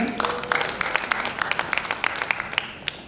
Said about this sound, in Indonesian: Boleh beri tepuk tangan buat Tuhan?